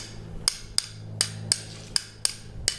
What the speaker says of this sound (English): I want to tap this forward just a little bit. So again, I take my hammer